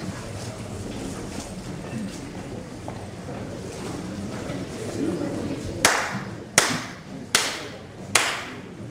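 Four sharp ritual hand claps in prayer at a Shinto shrine dedicated to Okuninushi, evenly spaced and crisp, arriving after several seconds of muffled crowd murmur and outdoor ambience.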